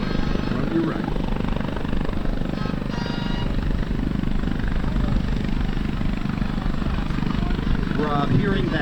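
A B-25 bomber's twin piston engines drone steadily and loudly as it touches down on a runway at an air show, a continuous rough rumble that carries through the whole stretch.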